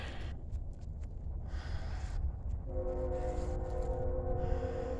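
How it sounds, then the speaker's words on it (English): Train approaching near a cemetery in Belleville, a steady low rumble of rail traffic with a sustained horn tone building in the second half, moderately distant and continuous. "Sorry about the train fixing to come"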